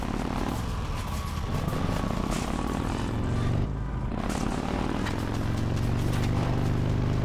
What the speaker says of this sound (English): What is there, a helicopter after him?